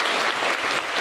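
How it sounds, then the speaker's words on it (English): A crowd at a county community mental health forum gives the board a brief, full burst of applause, many hands clapping together at close range. "I just want us to give the board another round of applause."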